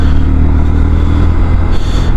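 Honda Grom motorcycle with its stock exhaust, engine running close and loud in a steady, rough mid-pitched drone with a slight pulsing throb, alone without talk.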